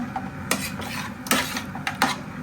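A metal pot and utensils clatter and scrape on a gas stove while meat is reheated, a few sharp knocks and clinks spaced irregularly over a low background hiss, close by and with no voices.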